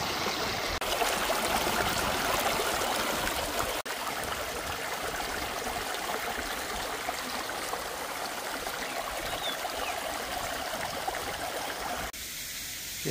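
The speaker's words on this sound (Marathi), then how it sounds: "आता हे टोपण काढलं की तिकडं पाणी चालू होईल विहिरीमध्ये यायला." Water gushes steadily from a 4-inch pipe into a well, a dense, unbroken rushing roar close by, cutting off abruptly near the end.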